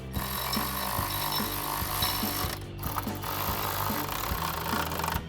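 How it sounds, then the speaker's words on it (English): A 12mm socket wrench ratchets mounting bolts tight on a Toyota Tacoma side-step bracket, a quick repeated clicking of the pawl that starts and stops in short bursts over steady background noise. "grab your 12mm socket and tighten those down"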